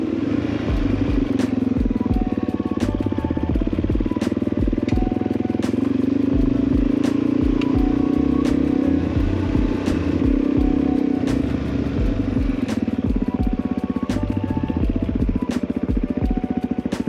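A Suzuki DRZ400 climbs a mountain track, its single-cylinder engine chugging steadily and close, with repeated sharp clicks and rattles over a constant low drone.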